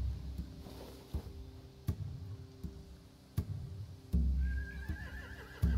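A horse whinnies loudly near the end in the video game The Walking Dead: The Final Season, over a looping synthetic background with regular clicks and thuds like game ambience.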